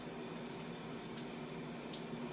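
Water from a pot of soaking navy beans being drained off, a steady, moderately close rushing pour with no talking.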